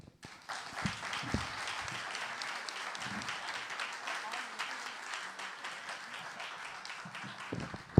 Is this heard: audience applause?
yes